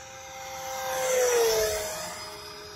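A Banana Hobby MiG-17 model jet makes a full power pass, its turbine whine swelling as it approaches, peaking mid-pass with a falling pitch and fading away after.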